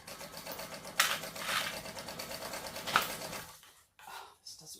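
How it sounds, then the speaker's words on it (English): Sewing machine stitching an eighth-inch seam allowance along folded edges of a crossbody bag, a steady close mechanical whir with slight speed swells, stopping near the end. "we're just sewing down an 1/8 of an inch seam allowance down the two folded edges"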